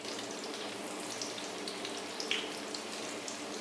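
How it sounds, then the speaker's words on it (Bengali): Bread noodles shallow-frying in a pan over medium heat: a steady, even sizzle and hiss, close and constant throughout. "এখন মিডিয়াম হিটে এগুলাকে 90 সেকেন্ড করে এক এক পাশ ভেজে নিব"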